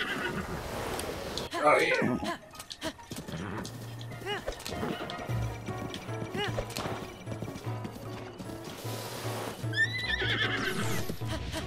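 A horse in The Legend of Zelda: Breath of the Wild neighs and whinnies while its hooves clip-clop and thud through a bucking struggle, loud and close, with someone talking briefly over it.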